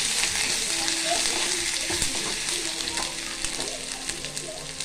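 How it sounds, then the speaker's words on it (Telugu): Ginger garlic paste frying in hot oil for a prawn curry; a loud, dense, continuous sizzle close up, with a few light utensil taps and a faint voice in the background. "అల్లం వెల్లిగడ్డ మసాలా మంచిగా ఆయిల్ ఫ్రై కానీ"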